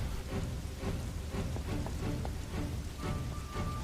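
Heavy rain pours steadily in the Dynasty Warriors 8 video game, a dense continuous wash with scattered heavier drops and faint low rumbles, no talk over it.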